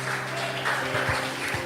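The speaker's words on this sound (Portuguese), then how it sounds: "Você pode aplaudir a Cristo com muita alegria." Church congregation applauding with joy during a Portuguese-language worship service, a steady broadband patter of clapping through the whole moment.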